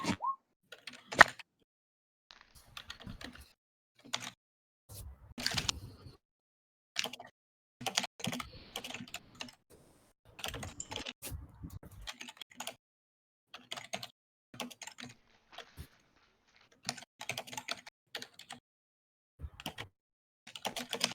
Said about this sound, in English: Don't like all that clickety clacking.